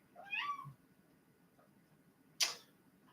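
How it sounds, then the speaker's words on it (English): A house cat gives one clear, rising meow close by, followed after a pause by a short sharp click, with a quiet room around them. "Hold on, my cat's here."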